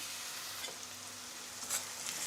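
Finely chopped onion with salt frying in a pan, a steady soft sizzle with faint crackles and a light scrape, fairly quiet and without voices.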